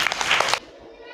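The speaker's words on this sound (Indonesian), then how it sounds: "tepuk tangan buat Alma" A short burst of clapping from a classroom of students applauding a classmate named Alma, dense and close for about half a second before stopping abruptly.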